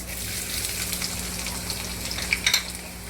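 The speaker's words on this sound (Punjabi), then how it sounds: "ਤੇਲ ਗਰਮ ਹੋ ਗਿਆ ਅੱਧਾ ਚਮਚਾ ਆਪਾਂ ਜੀਰੇ ਦਾ ਪਾ ਦਾਂਗੇ ਲਸਣ ਪਾ ਦਾਂਗੇ" Cumin and garlic sizzling in hot oil as the base for a green chilli curry cooked in milk, a constant close frying hiss with small popping crackles near the end, no voice over it.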